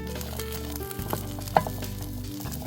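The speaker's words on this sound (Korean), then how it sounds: "마늘을 프라이팬에 구워요." Garlic roasts in a dry frying pan over low heat, giving a quiet, steady sizzle with a few small pops and crackles, faint and close.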